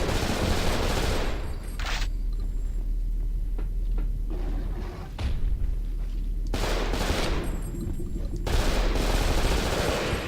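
An automatic defense turret in the video game Cold Fear fires steady, loud bursts of rapid gunfire that carry on almost without pause.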